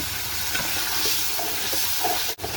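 Chickpea lentils cooking with a goat head in a pot, stirred with a low bubbling sizzle and soft scraping, close and continuous, ending with a brief clunk.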